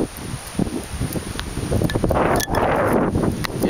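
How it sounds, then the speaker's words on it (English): Strong wind during Hurricane Isaac in southern Alabama roars and gusts continuously against the microphone, with rustling and flapping debris close by. "The wind sure has picked up. My God. Everything is just being blown around."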